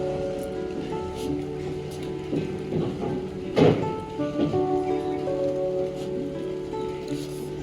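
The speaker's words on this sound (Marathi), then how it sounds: "अतिशय सुंदर असं वातावरण पण झालं आहे पावसाळी मे महिन्यात पावसाळा असं झालंय" Steady May rain falls outdoors at a home, a continuous close patter on surfaces with a few louder drops and knocks mid-way, no voices.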